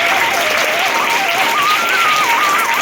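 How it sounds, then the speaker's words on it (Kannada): Audience applause at a school cluster-level talent festival, a dense, steady burst of many hands clapping for a few seconds, fairly loud with a faint voice or tone running through it. "ಜೋರಾಗಿ ಅವ್ರಿಗೆ ಚಪ್ಪಾಳೆ ಮುಖಾಂತರ ಅಭಿನಂದನೆ"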